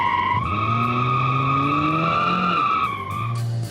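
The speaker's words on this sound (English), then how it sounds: "Tiny wheel skid." A car in BeamNG.drive skids with a loud, close tire squeal layered over a droning engine. The engine note rises, then falls, and the squeal cuts off near the end.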